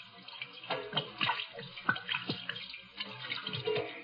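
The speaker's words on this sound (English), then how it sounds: "Hate to waste this good gin washing my hands." Liquid, gin, splashing over hands in a close, steady running pour with gurgling washes and small splashes, heard alone without talk.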